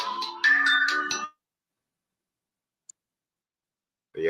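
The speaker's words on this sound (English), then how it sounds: "I got to answer this phone call." A phone ringtone plays a short melodic burst of electronic tones near the start, then silence with a faint tick, and the tune begins again at the very end.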